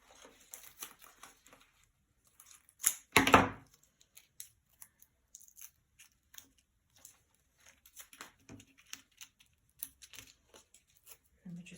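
Scissors snip through foam adhesive pads for card making, giving a few quiet, scattered clicks and cuts with one louder crunchy snip in the middle, close and otherwise fairly quiet.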